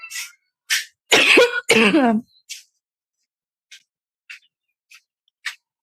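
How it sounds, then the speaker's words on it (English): A string of coughs: a couple of loud, harsh bursts early on, then several short, quieter coughs spaced apart, with no talking. "I'm so sorry about all the coughing."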